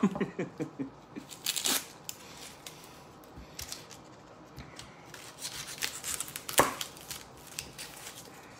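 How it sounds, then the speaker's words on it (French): Papery onion skins are peeled by hand for chili con carne, making crisp crackling and tearing bursts. Quick rustles cluster at the start, then sharp crackles return in separate spurts with quiet gaps between. "on va éplucher tous ces oignons"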